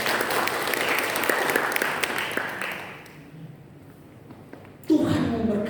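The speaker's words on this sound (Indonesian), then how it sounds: "Tidak ada tepuk tangan untuk Tuhan Yesus" A church congregation at a Sunday service applauds for Jesus, with loud sustained clapping that fades out partway through, a short lull, then a sudden loud burst of sound at the end.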